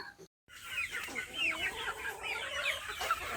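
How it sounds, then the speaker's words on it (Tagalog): Native chickens on a small farm cluck and squawk in overlapping bursts after a brief silence, close by and continuous across several seconds with no talking. "So, puro native po yung ating mga manok."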